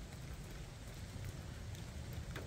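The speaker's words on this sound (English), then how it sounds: "It's supposed to get into the mid 60s today and pretty much rain all day." Rain falls steadily on a wet December day outdoors by the water while fishing, a faint, even patter with soft wind noise and no voices.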